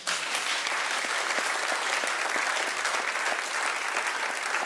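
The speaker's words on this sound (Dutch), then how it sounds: "Geef ze nog een groot applaus." Audience applause for a band in a Dutch school talk show studio, a dense steady wash of many hands clapping continuously and fairly loud throughout, with no voices standing out.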